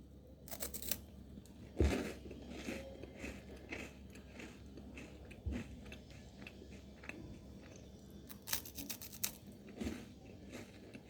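Close, quiet crunching and chewing of a Unibic chocolate wafer, with a few sharp bites and crackly snaps scattered among softer mouth sounds and no talking.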